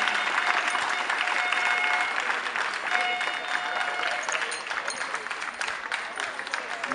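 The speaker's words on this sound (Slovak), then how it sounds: "Ďalší potlesk." A crowd claps steadily and loudly at a youth football tournament award ceremony, with the dense applause fading slightly toward the end.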